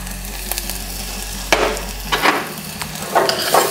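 Ginger and garlic sizzle and hiss on a hot Halo Elite4B griddle, with steady frying noise broken by a few sharp scraping stirs of a spatula, close and loud, no talking.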